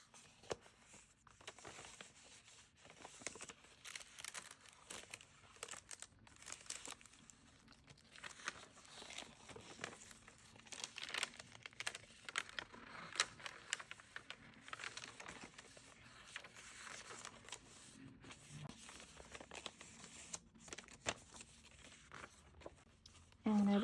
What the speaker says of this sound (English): so you can hear these paper sounds